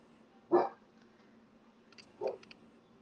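A pet dog barks once, fairly close, then gives a softer second bark a moment later, with a few faint clicks in between in a quiet room.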